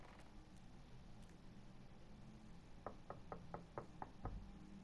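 A door is knocked on in the Batman Telltale video game: a quick series of about seven crisp raps, fairly faint, over a quiet background.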